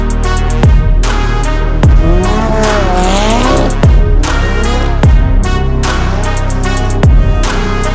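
A McLaren accelerates hard and drifts, its engine roaring loud and close while the tires squeal in repeated bursts across several slides.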